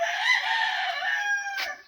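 A broiler chicken lets out a single strained crowing call lasting about two seconds, close and clear against an otherwise quiet background.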